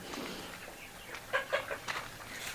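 Broiler and layer chickens on a farm give a few short clucks and squawks in the middle of the clip, fairly close, over a steady background hiss.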